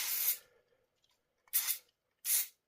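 Silicone lubricant or brake cleaner sprayed from an aerosol can onto an ATV part: three sharp hissing bursts, a longer one first, then two short close spurts separated by quiet.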